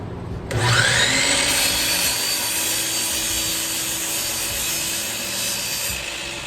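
A saw cuts through the end of a 2x4 wood board in one loud, continuous rasping pass, close up, with no talk.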